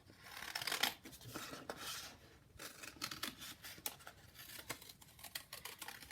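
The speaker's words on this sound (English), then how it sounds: "So let's go ahead and cut that out." Scissors snip through paper to cut out a small paper bolt, giving a run of quick, soft crisp cuts and rustles, close and fairly quiet.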